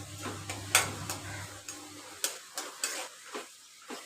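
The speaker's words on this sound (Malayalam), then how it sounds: "എണ്ണ ചൂടാകുമ്പോൾ ചുവന്നുള്ളി ഇട്ട് കൊടുക്കുക. ചുവന്നുള്ളി നല്ല നിറം മാറുന്നത് വരെ വഴറ്റുക." Shallots sautéing in hot oil in a pan for a coconut chammanthi podi with curry leaves, a soft sizzle with scattered clicks and taps of a spoon stirring, close and fairly quiet.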